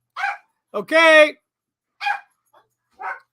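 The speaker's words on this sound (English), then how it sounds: "ignore the barking" Dogs barking indoors in a loose run of sharp barks and one longer howling yelp, close and loud, with gaps between; a person briefly speaks.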